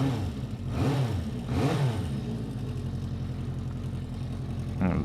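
Honda CB400 Four motorcycle fitted with a new exhaust, its inline engine idling with a steady low burble, broken by a few short throttle blips that swell and fade, heard close with no talk.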